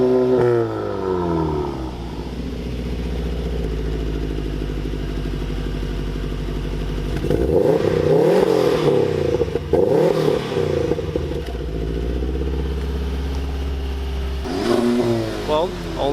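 A car engine rumbles steadily, then revs hard in a loud rising roar around the middle and again near the end, with people talking over it.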